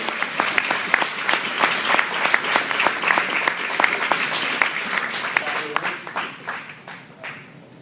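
A crowd gives the team a round of applause at an awards ceremony, with steady, dense clapping throughout that thins out toward the end.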